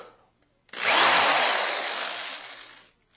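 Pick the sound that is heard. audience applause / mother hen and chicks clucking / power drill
power drill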